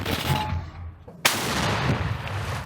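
A single powerful tank cannon blast cracks out suddenly after a quiet moment, followed by a loud, sustained roar of rumbling noise.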